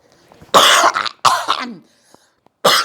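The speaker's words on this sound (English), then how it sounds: "let me cough, I beg" A few harsh, close coughs come in quick succession, followed by a short pause and one more cough.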